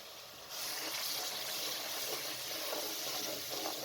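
Water poured into a pan of frying spices for Lahori chickpeas, a sudden hissing, sizzling gush that starts abruptly and continues evenly at close range, fairly quiet overall.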